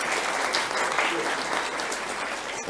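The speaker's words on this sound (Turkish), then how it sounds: "şöyle bir güçlü alkış alalım bir kez" An audience at a Ramadan religious talk gives strong applause, dense sustained clapping that holds steady and loud through the moment and then eases slightly toward the end.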